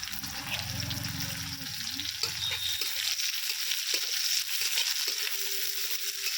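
Steady sizzling of chopped onions frying in hot oil, close and continuous, with occasional stirring clatter mixed in.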